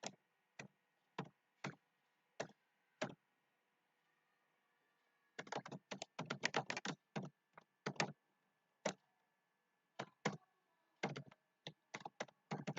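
Typing on a computer keyboard: sparse single key clicks at first, then a quick burst of rapid keystrokes, then scattered clicks and short runs, close and quiet in an otherwise silent room.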